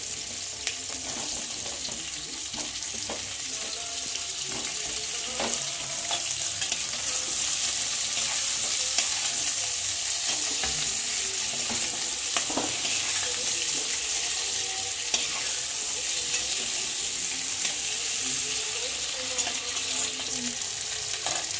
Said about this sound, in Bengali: একসাথে আলু আর পেঁয়াজ আমি ভেজে নেব।